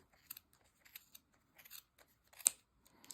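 Scissors snip down the center of knitted yarn on a baby cocoon snuggle sack, giving a series of quiet, crisp cuts with one sharper, louder snip near the end and no voices.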